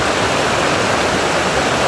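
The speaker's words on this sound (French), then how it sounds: "On est dans la rivière en fait." River water rushing over rocks at Pont-Aven, a loud, close, dense roar of flowing water that stays constant and unbroken throughout, with no voices.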